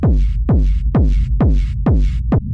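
Industrial techno kick drum, played without transient boost: six heavy, booming hits about half a second apart, each a deep pitch-dropping thump with a hissy noise tail, loud and alone.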